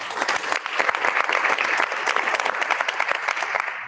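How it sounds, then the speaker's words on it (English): Close, loud applause at a school board of education meeting honoring the boys swimming team, a crisp round of many hands clapping with distinct individual claps, steady for several seconds and tapering only at the very end. "Let's give them a round of applause."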